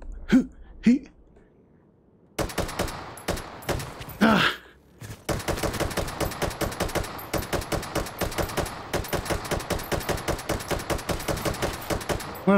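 Rapid gunfire in the VR shooter Hot Dogs, Horseshoes & Hand Grenades: after a few scattered shots, a dense, steady burst of automatic fire runs loud and close for several seconds.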